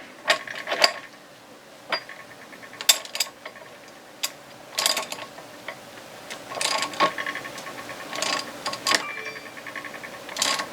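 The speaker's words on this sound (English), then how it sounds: "This is a 7/8 wrench here." A 7/8 wrench turning on a boat prop shaft during seal and carrier bearing O-ring replacement gives intermittent metallic ratcheting clicks and taps, close and fairly quiet, in irregular bursts.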